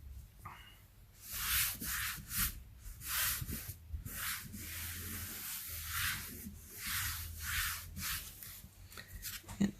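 Water sprayed onto a handmade Thanksgiving card surface, a run of soft, close hissing spritzes in quick bursts of similar length, faint and alone.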